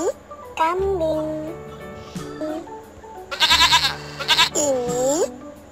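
A goat bleats in several wavering, nasal calls, some in quick bursts, loud and close over light background music.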